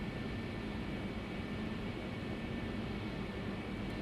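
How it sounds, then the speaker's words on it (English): A Concorde airliner, Air France 4590, lined up on runway 26 right, begins its takeoff roll with a steady, loud broadband engine roar and a faint whine, without voices. "let's return to the cockpit as the Concorde begins its final takeoff roll"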